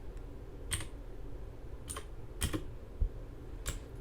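Typing on a Redragon Kumara K552 LED mechanical gaming keyboard: a few separate, crisp key clicks spaced unevenly over a low background hum, close and moderately loud.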